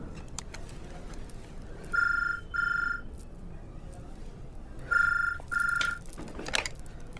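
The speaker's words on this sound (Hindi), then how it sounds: "आपका फोन जी।" A telephone rings in two double bursts of electronic trilling, a pair of short rings, a pause, then another pair, heard clearly over a quiet room background in a Hindi film scene.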